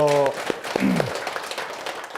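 An audience applauds at the start of a Korean Buddhist lecture, a brief spell of clapping mixed with voices, including a sung or drawn-out tone at the opening, settling quickly.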